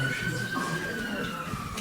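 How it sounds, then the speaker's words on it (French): A siren wails faintly in the distance, its steady tone sliding slightly downward beneath low background noise. "Vous aviez la sirène."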